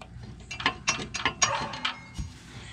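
A ratchet wrench clicks in several short bursts while loosening a baffle bolt on a Bobcat ZT2000 zero-turn mower deck, close and fairly quiet, with no talking.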